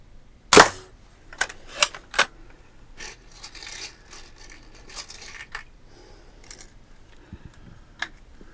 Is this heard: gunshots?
yes